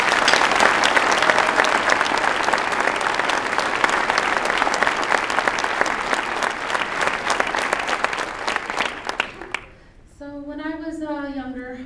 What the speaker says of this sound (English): So they deserve a round of applause